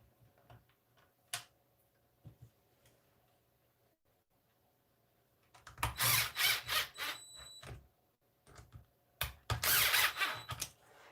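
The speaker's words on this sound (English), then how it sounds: "here's the rest of the old chassis, so we can go ahead and put those screws back in" Screws are driven back into a Traxxas Maxx RC car chassis with a power driver: short, close whirring bursts in two clusters separated by quieter handling clicks.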